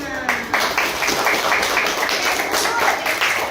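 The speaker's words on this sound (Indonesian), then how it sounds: "Tepuk tangan untuk kelompok 5." A classroom group claps for a student team that just presented, producing a steady, close patter of many hands that keeps going for several seconds, with a few taps and thuds mixed in.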